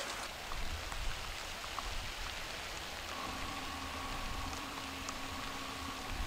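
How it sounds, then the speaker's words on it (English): Steady rain patters and hisses all around, a constant wash of drops on surfaces with a faint tonal hum joining partway through. "It's raining"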